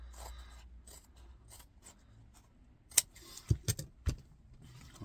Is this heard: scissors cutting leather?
yes